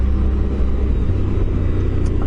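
A car cruises steadily along a road, its engine rumbling low and continuous with road noise close by from inside the cabin, no voices present.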